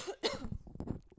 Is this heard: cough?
yes